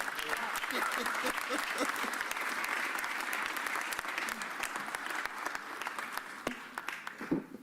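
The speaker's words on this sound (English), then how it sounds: "Put your hands together for my partner." A crowd at a Philadelphia arena partnership announcement applauds Council President Kenyatta Johnson, with dense sustained clapping and some voices that fade into scattered claps near the end.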